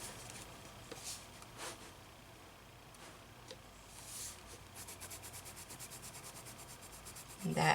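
A white pencil rubs over colored pencil on paper with soft, scratchy strokes, faint and close, speeding into quick regular back-and-forth scrubbing toward the end.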